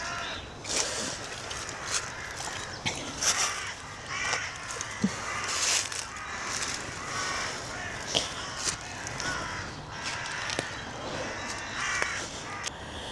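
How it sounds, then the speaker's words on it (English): Crows cawing in woodland, several harsh squawks and caws scattered irregularly at moderate distance, with faint rustling footsteps from a walker beneath them. "If anything is here, it's probably not going to be for long with that lot squawking off."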